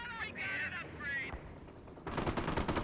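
Greyhound armored car and Jeep opening fire in Company of Heroes 1: a short, dense burst of rapid gunfire near the end, preceded by quieter tonal effects.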